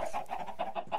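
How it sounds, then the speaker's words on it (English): Short, rhythmic clucks from chickens in the video game Minecraft, about half a dozen quick notes in a second, fairly close and alone. "I'm making chickens."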